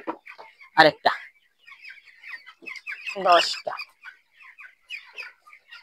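Seventeen-day-old farm chickens cluck and squawk in short bursts close by, with a few louder squawks, while someone talks over them.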